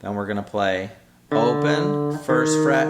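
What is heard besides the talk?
None of the usual background noises is heard.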